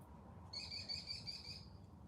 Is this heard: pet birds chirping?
yes